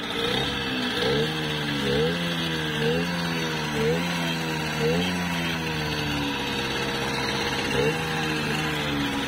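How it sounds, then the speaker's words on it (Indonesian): A small 50cc engine on a 1961 DKW Hummel motorcycle idles steadily nearby, its rhythmic putter occasionally rising and falling slightly with light throttle blips. "Ini suara mesinnya."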